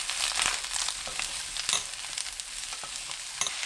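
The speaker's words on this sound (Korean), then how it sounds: "파프리카와 파 넣고 30초 볶습니다" Paprika and scallions stir-fried with sausage and potatoes in a pan give a steady close sizzle, with scraping stirs and a couple of sharper clatters, no voices.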